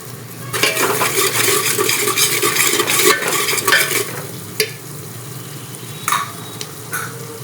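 Palak bhaji (chopped spinach with chilli powder, salt and coriander) being stirred and fried in a pan, with a steady close sizzle and repeated scraping of a utensil against the pan, a few sharp metallic clinks toward the end.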